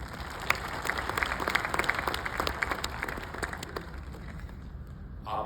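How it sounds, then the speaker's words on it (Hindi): An audience claps steadily at a technology conference opened by Prime Minister Narendra Modi, with sustained applause from a large indoor crowd that thins and fades toward the end. "इसलिए ताली भी बजा रहे हो"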